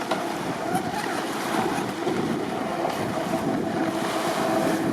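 A brushless RC boat runs at full throttle on choppy water, its high motor whine blended with steady splashing and heavy wind buffeting on the mic, loud and continuous without speech.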